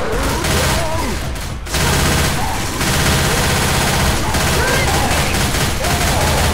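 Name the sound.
gunfire in the video game Left 4 Dead 2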